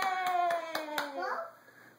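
A small child claps four times in an even, quick rhythm, close up. A voice sounds over the claps, and the clapping then stops.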